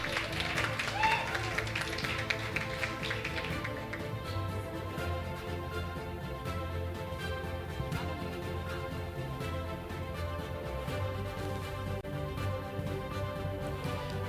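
Sustained applause from an audience at a youth council certificate ceremony at a school, with music playing underneath throughout.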